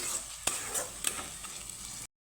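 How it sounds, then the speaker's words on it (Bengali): Spice paste being stirred and sautéed with soaked chana dal in a pan, a soft steady sizzle with a few sharp spoon scrapes and clinks close by, no voices. "ছোলার ডালের সাথে সুন্দরভাবে মশলাটাকে কষিয়ে নেব"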